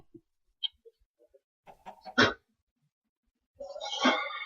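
Minecraft chicken clucking in a few short bursts, with a louder squawking burst near the end, the sounds close and fairly clear against quiet in between.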